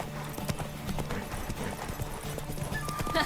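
Galloping horse in a race in The Witcher 3, rapid rhythmic hoofbeats close and continuous under faint game ambience, with a brief tonal cue near the end.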